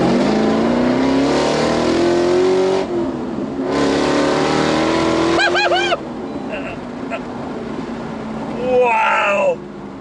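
A Walkinshaw Performance VXR8 engine revs hard from inside the car, rising in pitch through two loud pulls, then dropping to a rumble with brief blips, while a voice speaks over it.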